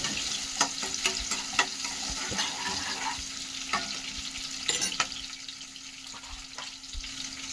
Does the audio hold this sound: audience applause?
no